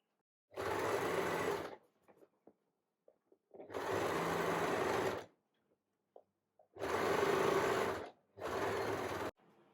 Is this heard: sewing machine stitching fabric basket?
yes